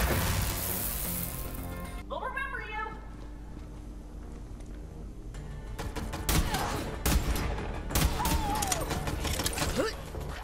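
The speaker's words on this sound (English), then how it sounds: "Who's shooting?" Borderlands 3 gunfire, scattered sharp shots and bursts that pick up in the second half, mixed with mechanical game effects and a voice talking over the action.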